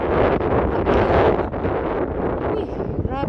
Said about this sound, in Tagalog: lakas naman ang hangin po.